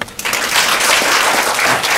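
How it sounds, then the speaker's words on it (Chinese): An audience bursts into loud, dense applause at a press conference for an endorsement signing. The clapping swells quickly and continues steadily to the end. "请大家掌声鼓励"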